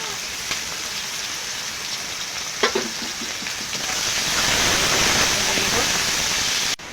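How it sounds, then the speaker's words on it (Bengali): Chopped onion and garlic hit hot oil for a Bengali chicken kosha. A soft sizzle turns into a loud, dense, rain-like frying hiss that holds steady until a sudden cut at the end. "তেলটা গরম হয়ে গেছে, এবার দিয়ে দেবো পেঁয়াজ কুচি, রসুন কুচি"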